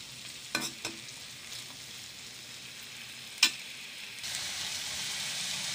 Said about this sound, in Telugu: ఇందులో మనం తరిగిపెట్టిన ఉల్లిపాయ ముక్కలు మనం వేసుకుందాం వేసుకుని మనం కలుపుకుంటూ వేయించుకుందాం